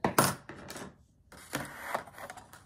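A rotary cutter, its blade worn and dull, slicing through fabric onto a rubber cutting mat: two or three short, close scraping passes with soft rustling between.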